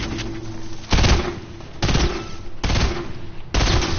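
Close, loud bursts of automatic gunfire from a video game. Four or five rapid volleys come in a steady rhythm, with short quieter gaps between them.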